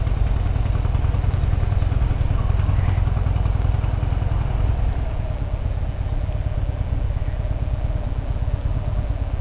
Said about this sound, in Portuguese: primeira volta dele de moto, creio eu.